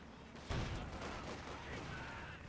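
Faint battlefield gunfire in Company of Heroes 2, a machine gun firing at Volk infantry, with one sharper burst near the start trailing into a dull, distant rattle.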